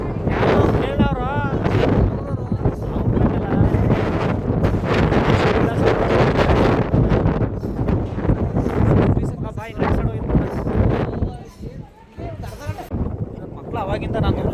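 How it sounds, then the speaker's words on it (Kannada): Strong gusty wind buffets the microphone outdoors on a road trip, a loud, continuous low roar that swells and dips for the whole stretch while people talk through it. "ಗಾಳಿ ಬರ್ತೈತೆ, ಅಷ್ಟು ಬರ್ತೈತೆ"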